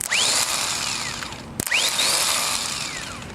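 The starter motor of a 2001 Ford Taurus spins when its solenoid is shorted with a screwdriver in a Walmart parking lot. It gives two rising, whirring whines, one after the other, with a brief click between them.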